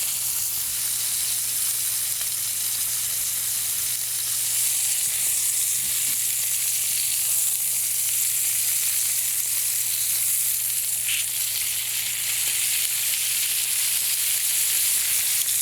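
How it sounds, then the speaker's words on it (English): Pork chops sear in a hot pan, giving a steady, close, continuous sizzle and frying hiss with no talking. "We're going to let those sear on each side for about 2 minutes."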